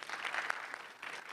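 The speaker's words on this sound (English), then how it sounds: "Folks, can we give a round of applause for founders building the future of AI?" A live audience at a NEAR x Delphi Labs AI Accelerator showcase applauds founders with a brief, steady burst of clapping that carries a faint crowd murmur and fades slightly near the end.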